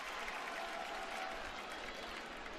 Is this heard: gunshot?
no